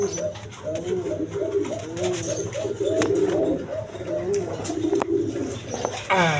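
Pigeons kept for sale coo repeatedly in rolling, throaty calls that overlap and continue throughout, close by, with a few faint chirps and some background noise.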